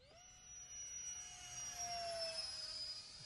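A HobbyKing L-39 Albatross model jet with a 64mm electric ducted fan flies past with a shrill, steady whine that swells and shifts in pitch as it passes.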